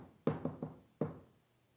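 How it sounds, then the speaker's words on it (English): Knuckles rap on a door in a quick triple knock, a short pause, then one more hit, crisp and close in otherwise quiet surroundings. "So I knocks again."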